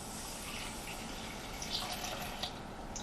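Two cups of water pour into a pan holding a cup of grits, a steady hissing gush with a few small splashy bubbles, fairly quiet and with no talk.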